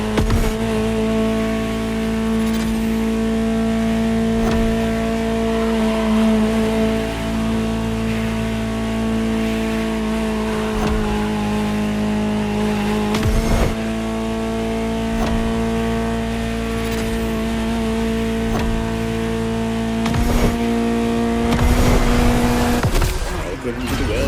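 A high-revving Ferrari supercar engine in The Crew Motorfest drones steadily for a long stretch, with sharp bursts as it shifts gears, loud and close, no voices.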